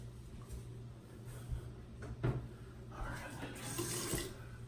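Running tap water wets a shaving brush at a barbershop sink, a soft steady splashing with a brief clatter midway and a louder, brighter rush of water toward the end.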